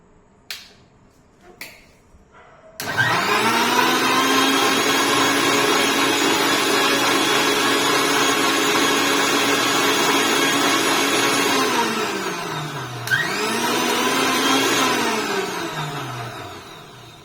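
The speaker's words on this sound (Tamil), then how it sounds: "இப்போ என்ன பண்றோம்னா அரைச்சுக்கலாம்" A kitchen mixer grinder whirs up to a steady high-pitched motor whine while grinding ingredients, runs loud and continuous for about nine seconds, briefly slows, then spins up again before winding down.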